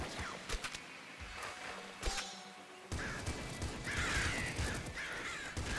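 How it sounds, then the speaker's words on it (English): Crows caw in the game Nuclear Throne, several sharp, harsh calls in quick succession, loud and close, set among clattering game effects and noisy bursts. "Fucking crows, man."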